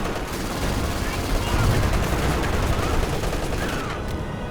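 Continuous dense gunfire and explosions from an MG34 machine gun and a landmine detonation in the World War II strategy game Company of Heroes 2, loud and crackling throughout, with a voice faintly under the din.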